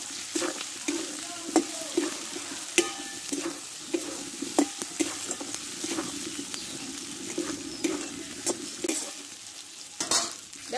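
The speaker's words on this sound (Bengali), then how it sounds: "এটা একটু ভালো করে কষে নেব মশলার সঙ্গে।" Boiled potato sautéed with Kashmiri chilli powder and spices in a pan, a dense, continuous sizzle with frequent scraping and tapping stirs throughout, close up and without speech.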